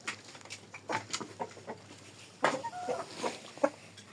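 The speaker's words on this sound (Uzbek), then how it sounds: "Mana bu yerda o'sha armaturaning liniyasidagi tovuqlar bular." Chickens in a poultry pen on a farm cluck in scattered, uneven bursts, moderately close, with no talking over them.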